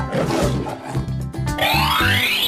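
A cartoon tiger in a 3D animal slide game gives a loud, steady roar lasting a couple of seconds, then a bright rising whistle-like sweep joins in near the end.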